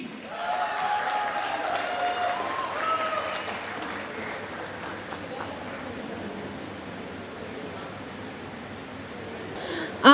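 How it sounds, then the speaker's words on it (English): An audience at an alumni meet applauds the organizing team, a soft, fairly distant wash of clapping that holds steady for several seconds with some murmuring, then fades toward a sudden close noise at the end. "A big round of applause for the team."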